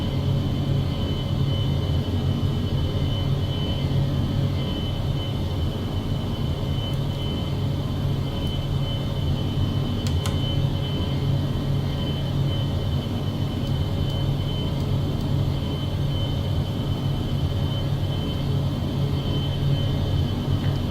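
Gulfstream 550 business jet taking off in X-Plane 12, a steady, loud engine roar with deep rumble held evenly throughout, no voices.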